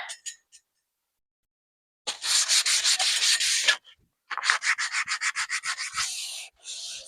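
Sandpaper rubbing back and forth along the wooden handle of a fireman's axe, two long bursts of close, steady rasping strokes separated by a pause, with a few faint knocks at the start.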